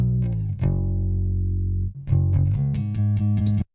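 A distorted bass guitar, DI and amp tracks blended, plays a sustained low note, then a short rhythmic run of punchy notes, thick and gritty, with no voices.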